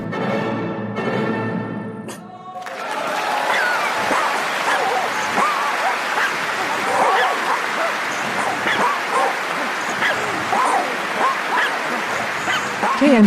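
A chihuahua yips and barks in rapid, excited bursts, opening with a few high whimpering whines before the barking takes over, loud and close throughout.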